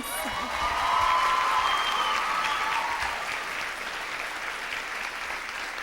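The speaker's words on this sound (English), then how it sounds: "Why don't you show me with your applause just how bad you want to know these names?" Pageant audience at Miss USA 1997 applauding and cheering loudly as finalists await the runner-up announcement, a dense roar with whoops and whistles that eases slightly but stays steady.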